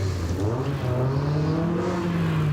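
A Mazda MX-5 race car at a hillclimb rounds a hairpin, its engine droning steadily and rising slightly in pitch as it pulls through the bend, loud and close throughout with no talk.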